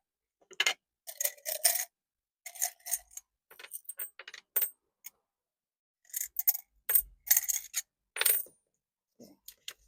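Coins drop into a savings container during a savings-goal game, giving repeated bursts of close metallic clinking and jingling with short silent gaps between handfuls.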